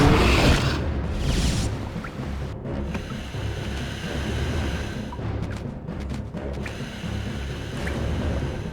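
A roaring waterfall from the game Castlevania: Mirror of Fate HD pours a loud, continuous broadband rush, with a few faint clicks and knocks scattered through the steady wash.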